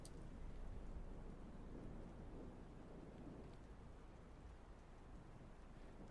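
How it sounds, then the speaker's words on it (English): Heavy rain pounds down without letup in a video game scene, a steady dense hiss with wind-like swells and a low rumble underneath, continuous and unbroken with no voices. "the longer I read, the louder the pounding of rain and the howling wind became."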